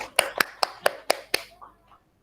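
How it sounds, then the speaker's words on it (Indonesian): A class clapping hands together in a classroom, six crisp, evenly spaced claps in quick rhythm, close and fairly loud, fading into brief quiet murmur at the end. "Tepuk tangan semuanya."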